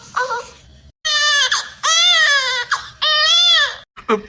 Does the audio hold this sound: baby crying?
yes